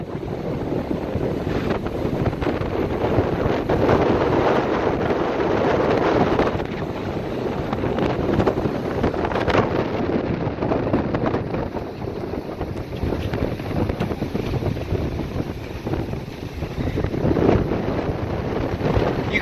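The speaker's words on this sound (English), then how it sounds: "that wind is just churning" A heavy wind squall roaring across the microphone on the coast at Dauphin Island, Alabama, a loud steady buffeting rumble with gusting surges and rough sea noise beneath.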